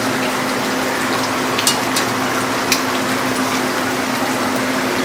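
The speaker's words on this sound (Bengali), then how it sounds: "দেখতে পাচ্ছেন খুব সুন্দর টকবক করে ফুটছে।" Country-style desi chicken curry in a covered pot, with whole cinnamon, cardamom and cloves, boils at a continuous loud bubbling rush with a steady hum and occasional sharp clicks.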